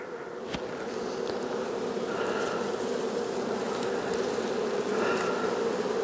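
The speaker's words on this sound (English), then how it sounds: "Yep, bees are moving out of the way." Honey bees buzz in a continuous, moderately faint drone during a hive inspection in spring after a long winter, with a soft click early on and no voices.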